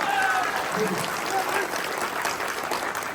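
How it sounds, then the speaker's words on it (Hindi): Applause from an audience at an Oriens business plan meeting, a dense steady clapping that carries on evenly through the clip with a faint voice over it. "इन हमारे सारे सर मैडम लोगों के लिए भी जोरदार ताली बजाइए।"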